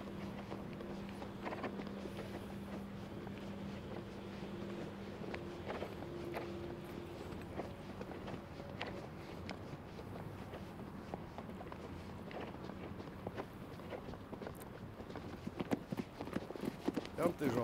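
A horse's hooves thud in a steady rhythm during a jumping gymnastics exercise, a continuous patter of hoofbeats on arena footing with background noise that grows busier toward the end.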